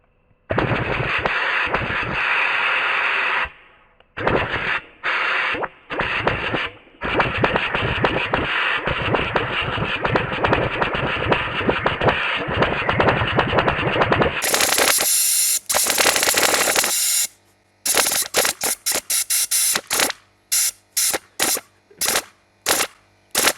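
A full auto Orbeez gel ball gun fires close by in loud, rapid bursts with brief gaps, then switches to quicker choppy strings of shots, with no talking.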